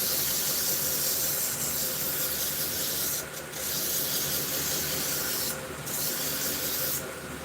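A belt sander grinds a knife blade in a steady, loud, close abrasive hiss, broken by three brief bursts of sharper spraying rasp.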